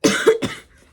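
Two harsh coughs from one person, close and fairly loud, with a rough throat-clearing quality, fading into near silence.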